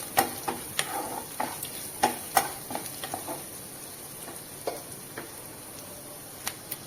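Curry leaves stirred into a pan of manathakkali keerai kootu, a South Indian greens dish, with soft scraping strokes and light sizzling ticks at an irregular rhythm, close and quiet, no talk.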